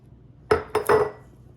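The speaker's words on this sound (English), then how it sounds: "I'm gonna add the brine." Brine goes into a glass jar packed with peppers, ginger, garlic and orange bell pepper for fermented hot sauce, heard as three sharp clinks and knocks of glass close by, followed by a quiet short splash.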